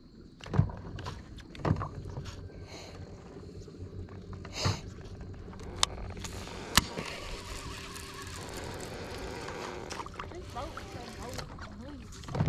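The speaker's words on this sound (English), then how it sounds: "A noisy boat." Knocks and clunks from a small fishing boat near a seawall, several sharp thumps and rattles spread across a low ongoing hull and wind noise, with people talking over it.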